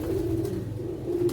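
A pigeon coos close by in a low, steady, rounded call that runs unbroken through the whole short stretch, with no other sound over it.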